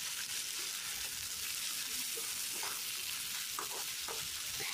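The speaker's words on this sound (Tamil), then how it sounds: "அதனால் கொஞ்ச நேரம் எண்ணெயிலேயே நல்லா வதக்கி கொடுத்துக்கலாம்." Sliced ivy gourd sautés in oil in a pan, giving a steady, dense sizzle with occasional soft stirring scrapes, close and continuous with no voices.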